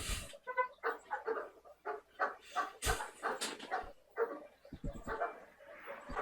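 Several dogs bark repeatedly at fairly close range, with sharp, overlapping bursts of barking and a few yips spread across several seconds.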